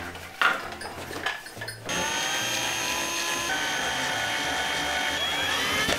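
A power drill with a thick bit starts up after a few knocks and whirs steadily at high speed, boring into a carrot with a continuous loud whine.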